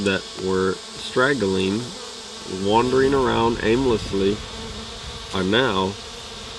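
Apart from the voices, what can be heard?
honeybee swarm gathering on a queen catcher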